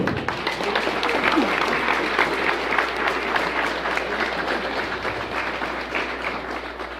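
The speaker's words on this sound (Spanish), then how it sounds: "Vamos a brindarle ese fuerte aplauso." Loud, sustained applause from a crowd, steady clapping filling the whole stretch without a break.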